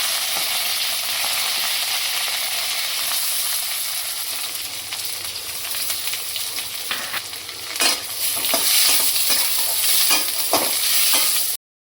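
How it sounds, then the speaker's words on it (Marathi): Mustard seeds, cumin, green chilli, curry leaves, onion and peanuts sizzle loudly in hot oil in a pan, a steady close fry with scraping stirs and clinks growing busier toward the end. "तेल तापल्यावरती यामध्ये मी एक चमच मोहरी टाकली एक चमच जिरं हिरवी मिरची गोडलिंब कांदा आणि त्यानंतर शेंगदाणे टाकले आणि छान परतवून घेतलं"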